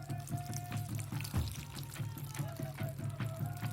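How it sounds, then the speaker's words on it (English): Water pours steadily into a blender for a shake, a continuous close trickling splash running alone for a few seconds. "To this particular shake, I'm adding 30 ounces of water."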